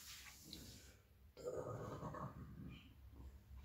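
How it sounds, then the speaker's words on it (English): A single low, rumbling burp from a person eating a McDonald's meal, fairly quiet and close, following a brief pause after some faint background noise. "That burp released a lot of gas there."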